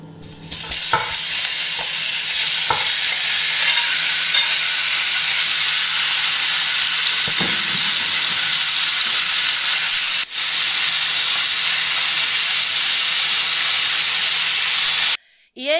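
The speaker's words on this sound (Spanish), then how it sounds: "Tenéis que dejar la cacerola o recipiente que estéis utilizando bien caliente para que rápidamente, según echemos la carne, se selle." Pork loin sears in hot olive oil in a saucepan, giving a loud, continuous sizzle and hiss with occasional stirring clatter, close by, before cutting off abruptly at the end.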